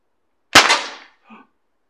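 One sharp shot from a Crosman 1077 semi-automatic air rifle cracks out and rings briefly, followed a moment later by a faint metallic clink.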